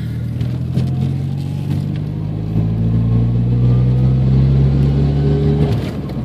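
A Mazda 323 GTX engine drones steadily while driving through the gears, a low constant hum that rises slightly in pitch and load midway, close inside the car, with no talking.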